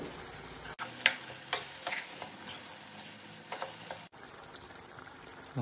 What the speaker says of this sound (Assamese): আৰু এতিয়া ল' ফ্লেমত লাহে লাহে অলপমান উতলিব দিব।